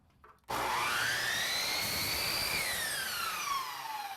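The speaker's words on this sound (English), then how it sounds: "Just take some scrap molding and cut off the left side by putting the top of the molding up against the saw" A power saw cuts through scrap polyurethane baseboard molding, starting abruptly and sustaining a loud, close whine with its pitch rising then falling for several seconds.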